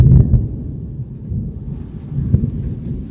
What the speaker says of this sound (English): We'll just wait for the thunder to stop.